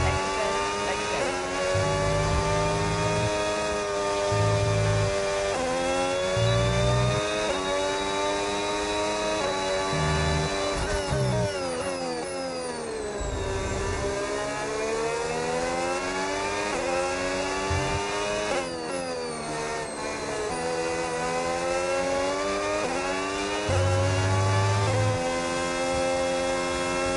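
Formula 1 race cars in the F1 26 video game scream at high revs, rising and falling with gear shifts as other cars pass, loud and continuous with no talk.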